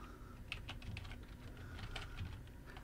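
Light, quick typing on a computer keyboard, faint and close, with scattered clicks in an irregular rhythm and no talk.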